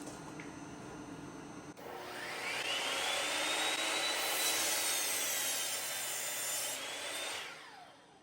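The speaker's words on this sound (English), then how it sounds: "Let's try running the saw again with the heat gun running at the same time." A power saw cuts through wood while running off a Bluetti AC180 power station alongside a running heat gun, with a quiet background hum, then a loud sustained cutting whir that rises, holds for several seconds and winds down.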